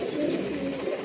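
Pigeons in a loft give soft, low cooing over a dense murmur of many birds, steady and close for about a second.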